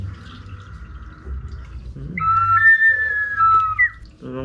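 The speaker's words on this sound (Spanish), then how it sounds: "Lo interesante de estos silbatos es que tienen que hacer el cambio." A handmade clay whistle from a workshop in Amozoc, Puebla, is blown: first a softer steady tone, then a louder, pure warbling whistle held for a couple of seconds, close and alone.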